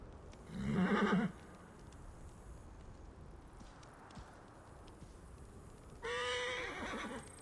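A video game horse whinnies loudly, then after a quiet stretch of low background rumble, a second neigh rings out near the end.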